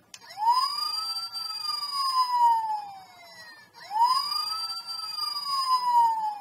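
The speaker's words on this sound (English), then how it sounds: "siren, which can go on a little too long sometimes" An electronic toy robot siren wails in two long rising-and-falling sweeps, bright and synthetic, loud and close with no talking.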